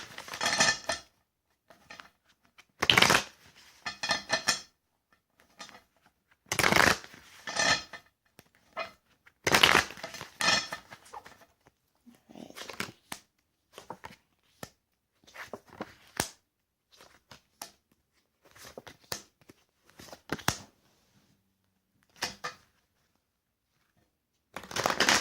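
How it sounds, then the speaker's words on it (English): A deck of tarot cards is shuffled by hand in repeated short bursts of papery riffling and slapping, each separated by a silent gap, close and clear with no talk. "So cards shuffled."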